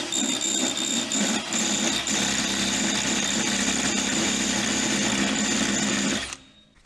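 A rotary tool fitted with a tungsten burr grinds metal during a Volvo restoration, a steady high-pitched whine with a gritty scraping edge that runs continuously and loud for about six seconds, then cuts off abruptly.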